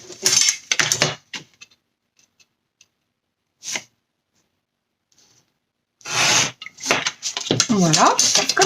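Paper being cut with scissors while making a sea-themed holiday pop-up album, several close snipping and rasping bursts separated by quiet pauses, with a voice talking over the later cuts.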